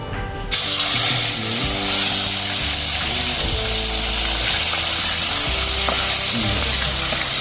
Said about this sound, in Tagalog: so magprito tayo